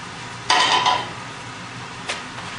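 A frying pan is wiped out, giving two brief scraping, rubbing bursts of cloth and metal against a quiet kitchen background, the first longer and louder and the second a short swipe.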